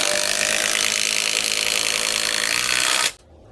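A HiKOKI 36 volt impact driver runs loud and close at a steady high-pitched whine with rapid hammering, then stops abruptly near the end, leaving quiet room tone.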